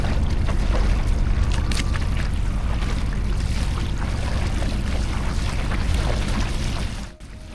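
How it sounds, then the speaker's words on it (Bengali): A wooden ferry boat crosses the calm Jamuna river, its engine and hull rumbling in a steady low drone with water washing past, fading slightly near the end. "শান্ত যমুনার বুক চিরে চলছে আমাদের খেয়া নৌকা।"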